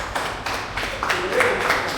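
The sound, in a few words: audience clapping for a speaker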